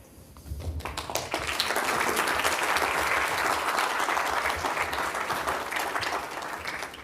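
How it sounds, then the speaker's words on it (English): A crowd at an economic development launch event breaks into applause, clapping swelling quickly from a quiet start into a loud, sustained roar that holds steady before easing slightly. "Let's give her another round of applause"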